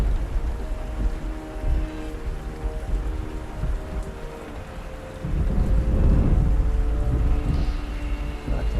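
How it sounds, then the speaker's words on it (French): Rain and thunder playing from a YouTube video: a continuous patter of rain with low rolling thunder rumbles swelling louder midway, no voices. "Il pleut là sur YouTube, non?"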